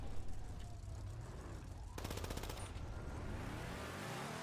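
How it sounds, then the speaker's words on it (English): A mini machine gun firing in GTA: a fast, even rattle of rounds cuts in partway through, laid over a continuous low engine rumble and busy game noise. "It was a mini machine gun thing."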